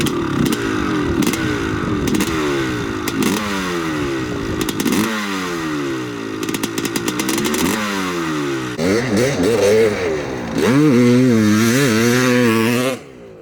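A 1989 CR500 dirt bike engine is revved hard during a break-in ride, its loud, close two-stroke note climbing and dropping in repeated throttle blips, ending in a long high rev.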